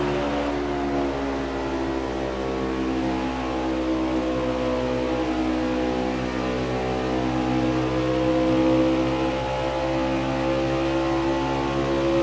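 A pack of stock race cars pulls out of pit lane in a racing video game set at Michigan, engines droning steadily with layered harmonic whine that swells slightly as they accelerate, loud and continuous with no talk.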